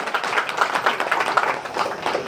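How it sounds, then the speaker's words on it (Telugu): A crowd claps steadily at a sewing training centre opening, a dense patter of many hands at moderate volume for a couple of seconds. "ఒకసారి గట్టిగా చప్పట్లు కొట్టండి"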